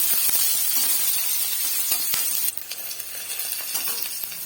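Chopped onions fry in a hot pan, giving a loud, steady close sizzle with faint crackles and a brief stir partway through, no voices.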